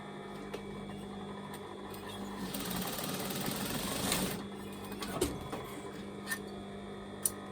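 A sewing machine stitches in the ditch along the seams of a maxi skirt cut down from a size 10 maxi dress: a steady mechanical whir that swells into a louder, busier run midway, then settles into lighter clicks and taps.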